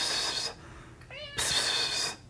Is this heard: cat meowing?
yes